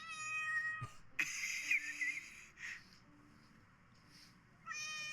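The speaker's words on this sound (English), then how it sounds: "Yeah, meows of complaint." A house cat lets out several quiet, complaining meows, spaced apart with pauses between them, heard close up in a calm indoor room.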